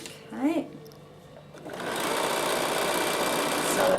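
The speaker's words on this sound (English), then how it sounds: "Sew it along, needle position to the right, go around your curve, remembering to stop often on your curve." A sewing machine runs steadily, stitching a reverse appliqué on a garment bag. It starts after a brief pause and hums close and continuous, with a person talking over it.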